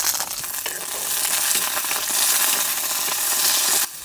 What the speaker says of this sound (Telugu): 1 చెంచా నూనె వేసుకొని ముందుగా పచ్చిమిరపకాయలు వేయించుకుందాం.